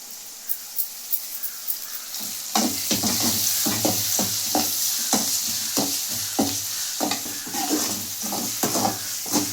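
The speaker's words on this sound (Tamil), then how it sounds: "நல்லா வதக்கி விட்டுக்கலாம்" Onions with salt and curry leaves sauté in a pan, a steady sizzle broken by a regular run of spatula scrapes and taps, close and fairly loud without speech.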